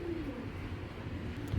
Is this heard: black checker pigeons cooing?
yes